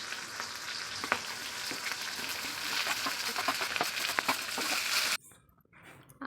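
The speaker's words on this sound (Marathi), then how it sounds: "आपल्याला कांदा भाजायला टाकायचा आहे." Chopped onion frying in a pan crackles and sizzles steadily at close range, with scattered pops and light stirring, before the sound drops away abruptly near the end.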